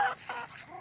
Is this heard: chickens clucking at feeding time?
yes